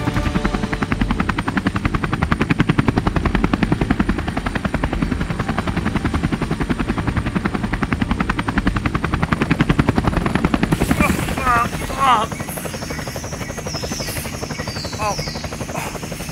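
A helicopter's rotor thumps loud and steady for most of the clip above the Amazon forest canopy, then drops off sharply, leaving quieter background sounds.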